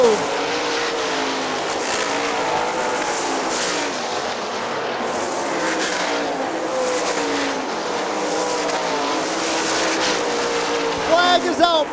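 Sprint cars race on the Hartford Speedway dirt track, a continuous loud roar of several engines rising and falling as they pass through the turns, with a commentator talking over it throughout.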